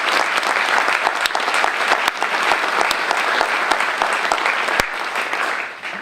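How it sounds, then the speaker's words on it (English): An audience at a Women's Equality Day ceremony gives a sustained round of applause, dense loud clapping from many hands that fades slightly toward the end. "Real quick, let's give a round of applause."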